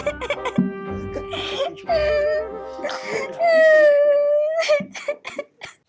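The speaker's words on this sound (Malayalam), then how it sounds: "മോളെ കരയല്ലേ കരയല്ലേ" A girl crying loudly in a comedy sketch, wailing, drawn-out sobs with rising and falling pitch broken by short gasping breaths.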